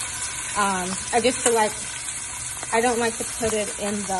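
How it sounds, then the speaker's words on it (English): Shrimp flash frying in a pan for a burrata pappardelle pasta, a steady broadband sizzle running throughout beneath a voice talking over it. "I like to gently just kind of flash fry just a bit my shrimp"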